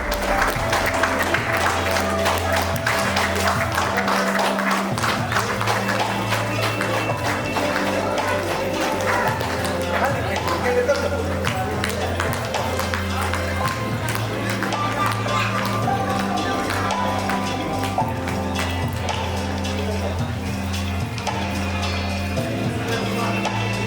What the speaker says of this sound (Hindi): आप लोग जोरदार तालियों से उनका स्वागत करें।